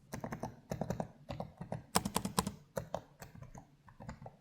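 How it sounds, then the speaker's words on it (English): Keys on the 2025 HP OMEN Transcend 14 gaming laptop clatter under quick typing, with crisp, close taps in rapid bursts and a few louder clusters. "As for the actual typing experience, it's very satisfying. It's got some nice tactility."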